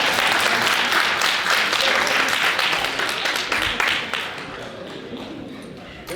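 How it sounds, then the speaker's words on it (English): A crowd at a school signing day ceremony applauds with dense, steady clapping and some cheering voices, loud at first and then gradually thinning and fading toward the end. "Let's clap it up one more time for that"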